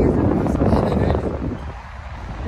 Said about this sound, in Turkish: Rüzgar çok var.